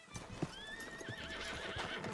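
A horse in Red Dead Redemption 2 makes a short whinny over soft hoof clip-clops in a woodland setting, fairly close and moderately loud, with no talking.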